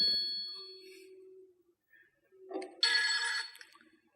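A telephone at home rings unanswered, two bright ringing bursts separated by a short quiet gap, the second louder and fuller.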